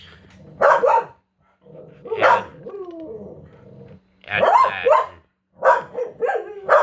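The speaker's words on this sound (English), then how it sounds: "Anything that moves out of these windows, they bark at." A dog barks in short bursts at movement outside the windows, close and loud, with a brief spoken remark mixed in among the barks.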